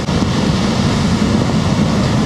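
Surf on the Oregon coast during a rare snowy spell, a steady broadband wash of breaking waves with wind buffeting the microphone, continuous and fairly loud with no voices.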